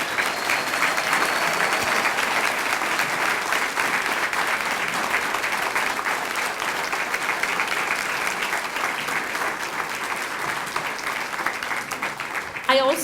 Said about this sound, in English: Students, please stand for a round of applause.